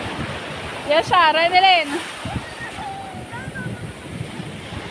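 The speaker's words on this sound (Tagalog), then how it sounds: "Sobrang lakas ang alon." Strong ocean surf rolls in at a beach during low tide, a steady broadband wash of breaking waves under nearby voices talking and calling out.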